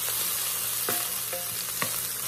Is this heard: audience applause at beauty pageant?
no